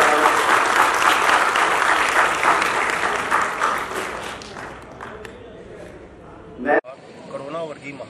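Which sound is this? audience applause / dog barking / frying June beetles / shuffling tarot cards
audience applause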